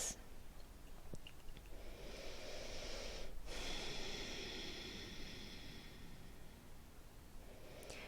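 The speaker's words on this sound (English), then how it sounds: "Taking some nice deeper breaths." Slow, deep breaths during a gentle yoga session for headache relief: a long, airy inhale and exhale, close and soft, over a hissing background with no talking.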